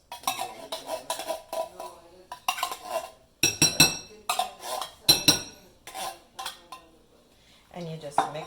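A spoon clinks and scrapes against a dish while Rotel tomatoes and cream soup are mixed into shredded chicken, in short repeated bursts of stirring with pauses between strokes, close and clear.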